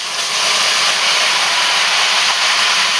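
Onions and curry leaves fry in hot oil for a crab curry, giving a loud, steady hiss and sizzle that holds without a break.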